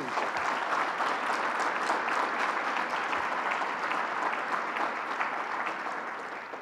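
Sustained applause from a large crowd at a governor's bill-signing event in Buffalo, steady and dense throughout, fading slightly at the end with no voices over it.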